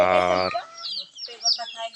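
Chickens cluck and squawk close by in a rural yard, a few sharp, uneven calls and short cackles following a brief loud tonal cry at the start.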